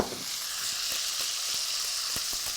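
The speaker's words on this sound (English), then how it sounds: "Now our lardons are well brown, golden, crispy, and I've rendered all of their fat." Lardons for boeuf bourguignon sizzle in their rendered fat over medium-low heat, a steady, close frying hiss scattered with sharp little crackles and pops, with no voices.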